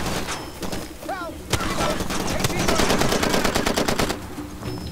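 Rapid automatic gunfire in the video game Far Cry 2, loud and close in fast repeated volleys with sharp single cracks, while someone talks over the shooting.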